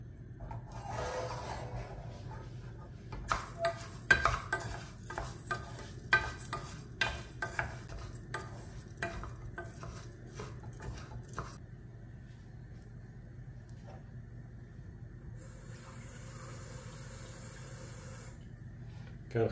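Rice fried in olive oil in a pan, with a soft steady sizzle under repeated scraping and clattering stirs through the first half, then a quieter, even hiss of frying.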